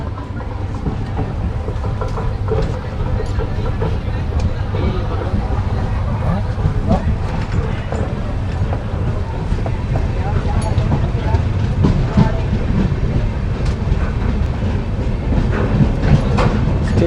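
The 14505 Nangal Dam Express gathers speed after leaving Morinda Junction, a steady loud rolling rumble with clickety-clack of wheels over rail joints throughout, heard from inside the train with voices in the background.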